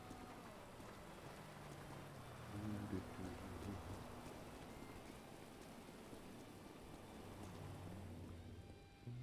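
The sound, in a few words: rain in a video game roleplay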